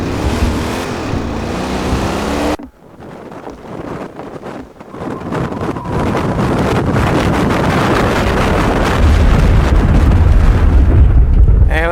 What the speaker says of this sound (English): I heard a lot of wind.